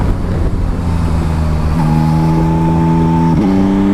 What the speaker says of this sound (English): You see, shifting down while accelerating because I was in a high gear.